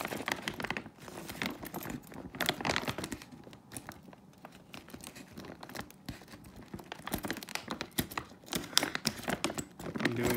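Sealed paper bag of pennies being cut open: busy crinkling and tearing paper with irregular rustles and snips, close and continuous throughout, no talking.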